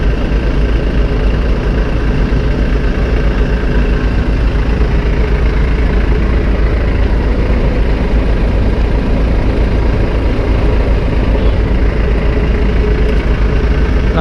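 An ALS intercity bus with a Mercedes-Benz 1626 engine and Jet Pusadi 2 body idles at Terminal Bukit Serungan, a loud, constant, deep diesel drone filling the whole stretch without change.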